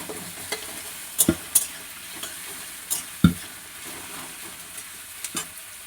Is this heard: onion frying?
yes